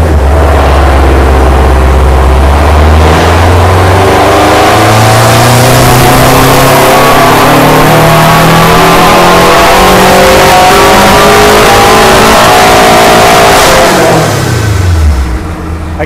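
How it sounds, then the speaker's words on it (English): A Subaru STI with a closed-deck built engine on the original factory block makes a dyno pull. The loud engine climbs steadily through the revs for about fourteen seconds, then drops back off. "So we'll pull a dyno run"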